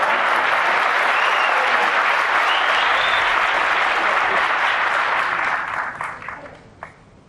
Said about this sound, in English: Greatly received by the crowd as well.